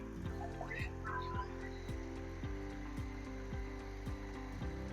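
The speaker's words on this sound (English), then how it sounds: "Now the vacuum cleaner is going to begin its self-cleaning function." A Tineco Floor One S5 wet-dry vacuum runs its self-cleaning cycle with the brush roller spinning, giving a steady close motor whir with a regular train of ratcheting mechanical clicks throughout.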